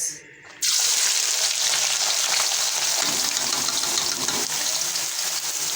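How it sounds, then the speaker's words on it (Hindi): Sliced onions drop into hot oil in an iron kadai for a beef and bitter gourd curry, setting off a loud, continuous close sizzle that carries on steadily after a brief quiet start. "ये देखें, प्याज फ्राई हो रहे हैं।"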